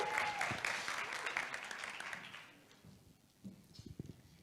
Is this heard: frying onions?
no